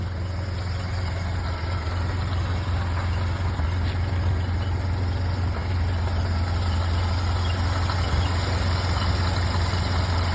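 A Ford Model A with open jacket spark plugs and a gravity-feed fuel system idles steadily, its low, even rumble continuous and close throughout with no talking.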